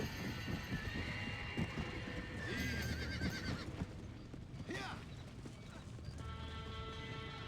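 Horses whinny and neigh amid clattering hooves in the Western video game Red Dead Redemption, several sharp calls over a busy, noisy scene with a voice speaking briefly.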